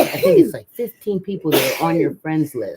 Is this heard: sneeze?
yes